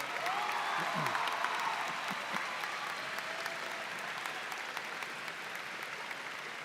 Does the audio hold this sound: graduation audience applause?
yes